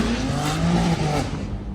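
Car pulling out of a daytime E46 car meet in Queens, NYC, with a sustained engine drone and tire squeal carrying steadily over the crowd noise throughout the short stretch.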